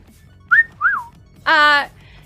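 A person with a whistling tic lets out short whistles: two quick sliding chirps followed by a longer, louder sustained whistle, close and clear over faint background game sounds.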